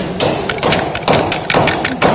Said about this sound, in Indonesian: Kita akan coba mengetok-ketoknya.